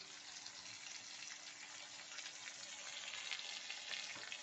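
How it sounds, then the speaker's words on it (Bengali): Ground turmeric, cumin and chilli frying in a pan with a splash of water, a soft continuous bubbling sizzle heard alone and fairly quiet throughout. "এখন এটাকে আমি একটু ফ্রাই করে নেব জল দিয়ে"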